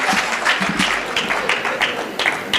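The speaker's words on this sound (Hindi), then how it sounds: "अरे तालियां बजाकर स्वागत करें शंभू शेखर का।" An audience at a Hindi comic poetry gathering claps loudly and close to welcome the poet Shambhu Shikhar, a dense irregular patter of many hands sustained throughout.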